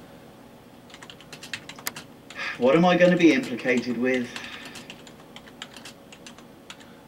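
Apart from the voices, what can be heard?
typing on a computer keyboard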